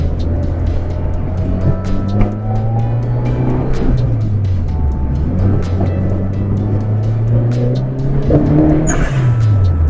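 A Mitsubishi Lancer Evo 4 drives along, its engine note rising and falling steadily through gear changes, loud and close for the whole stretch, with a brief higher squeal near the end.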